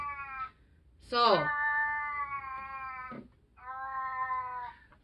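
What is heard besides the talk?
female cat in heat making mating calls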